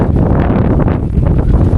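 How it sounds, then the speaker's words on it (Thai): Strong, dry wind gusting across an open rural area near Xepon in Savannakhet, Laos, a steady loud roar and buffeting close to the microphone with no talk. "โอ้ยลมแห้ง"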